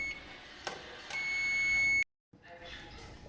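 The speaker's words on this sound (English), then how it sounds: "There's the timer." A kitchen timer sounds with a couple of short electronic beeps and then one sustained tone lasting under a second, fairly close and clear, before it cuts off to brief silence and quiet room noise.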